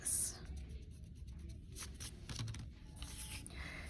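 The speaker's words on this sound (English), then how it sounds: "Let me erase this." A pencil drawing on paper is erased in a short series of soft, close rubbing strokes, faint and scratchy, with small pauses between bursts.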